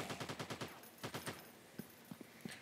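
AK rifle fire in the AGFPRO zombie first-person shooter game: two quick bursts of rapid automatic shots, then a few spaced single shots, fairly faint.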